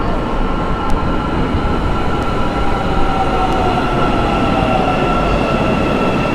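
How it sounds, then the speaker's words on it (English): A train stands at a station while people board, a constant loud rumbling roar with a faint high whine running through it, close and steady throughout without talk. "People are boarding the train here. Now I'm getting on the train."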